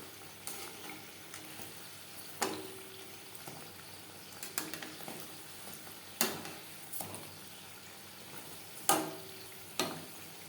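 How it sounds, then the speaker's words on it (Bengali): Labong Latika, a traditional Bengali sweet, frying in hot oil as it is turned until reddish, giving a steady soft sizzle with occasional sharp clinks and spatters at irregular intervals. "উল্টে পাল্টে লালচে করে মিষ্টি ভাজা হয়ে গেছে"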